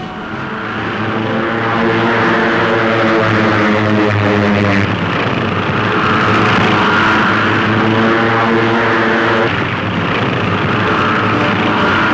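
A steady, loud drone of propeller aircraft engines roars continuously with a pulsing, throbbing hum, as if several planes fly overhead together.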